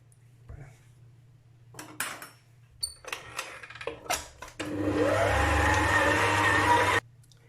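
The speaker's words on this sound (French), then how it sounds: "le robot a terminé de travailler la pâte" A food processor kneading brioche dough, first thumping and knocking in short bursts, then running in a steady loud whir for a couple of seconds before it cuts off abruptly.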